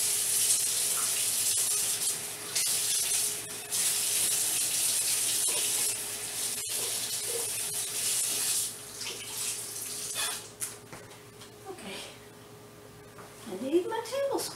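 Tablespoon rinsed under a running kitchen tap, a steady hiss of flowing water filling the sink with brief clinks and splashes near the end while a person talks.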